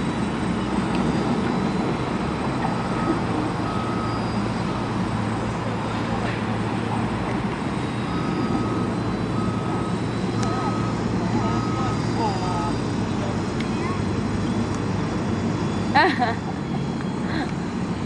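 A steady mechanical whir of a small multirotor drone hums continuously in flight, loud and close, with a brief clatter near the end.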